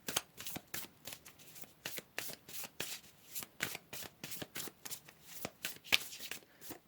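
Tarot cards being shuffled by hand in a quiet room: a steady run of crisp riffling and slapping bursts, close and soft, repeating every fraction of a second with no voice over them.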